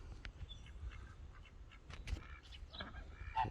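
Ducks quack softly in scattered, overlapping calls at a moderate distance around a backyard duck pond over a low background rumble.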